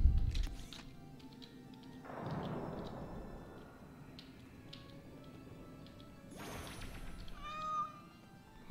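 A cat meows a few times, some calls short and one drawn-out, fairly close, with low rumbling noise in between.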